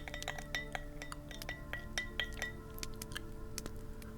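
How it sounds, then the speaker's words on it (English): Drink stirred in a glass at a fantasy tavern bar, with soft, close clinks and light tinkling taps repeating irregularly over a quiet background. "And then we're just going to give that a little bit of a stir."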